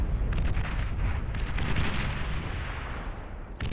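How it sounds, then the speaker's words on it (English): Vanguard artillery in the Beyond All Reason strategy game fires in a dense barrage, a continuous rumble of overlapping booms and blasts with bursts of crackle throughout. "And Vanguard fire galore."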